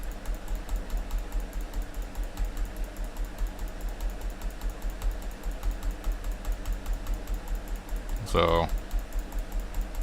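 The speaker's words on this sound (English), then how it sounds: "So I'm just gonna start clicking fast and try to keep it even" Fast, even clicking on a computer, apparently a mouse or keyboard, tapped rapidly to set a tempo, a dense, steady stream of small clicks close to the microphone, with a brief spoken word near the end.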